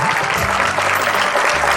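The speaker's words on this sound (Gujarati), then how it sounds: "ખૂબ ખૂબ તાળીઓ પડે." Sustained applause fills the hall as an audience claps for the cast after a play on Adi Shankaracharya, a dense steady ovation with some voices mixed in.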